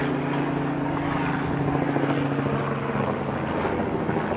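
A traffic helicopter hovers and circles above a countryside trail near Chesham, giving a constant, fairly loud rotor drone with a low throbbing hum and no voices.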